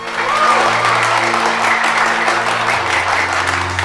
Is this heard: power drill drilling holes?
no